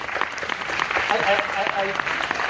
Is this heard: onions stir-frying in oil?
no